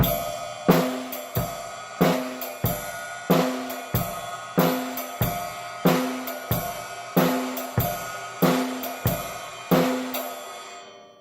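A drum kit plays a steady swing pattern, ride cymbal ringing over regular bass drum and snare hits, evenly spaced and close, with no voices.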